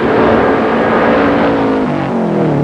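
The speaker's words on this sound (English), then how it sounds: "About 195 horsepower he's getting out of this turbo Subaru coming down there, and Robbie Hart has a 1:9:30." Turbocharged Subaru rally car of about 195 horsepower at a New Zealand forest rally in 1989, its engine roaring loud and steady with a slight pitch drop near the end as it passes.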